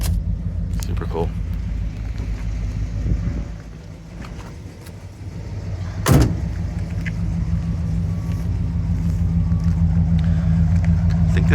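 A 1965 Chevrolet Caprice with a 396 big-block V8 and an added dual exhaust idles with a steady, deep rumble throughout, swelling briefly midway, with muffled voices in the background.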